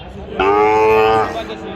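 A Sahiwal calf at a border livestock market in Joypurhat gives one loud, near moo lasting under a second, with faint market murmur around it.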